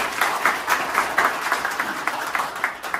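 Applause from a room of students at the start of a class on their first day at an institute, with clustered rhythmic claps rising and falling over a few seconds.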